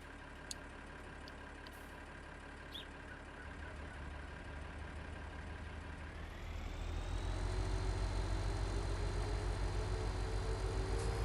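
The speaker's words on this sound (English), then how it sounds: "I think the engine sound is probably better in this tractor than the other one" Tractor engine in the Farming Simulator 19 video game on the Alps map, idling with a steady hum before revving up midway and holding a louder, deeper drone to the end; no talking.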